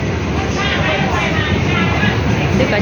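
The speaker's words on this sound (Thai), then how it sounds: "รถไฟมาพอดีนะคะ" Steady rumble of a train rolling into Wongwian Yai station, loud and continuous, with indistinct voices murmuring underneath throughout.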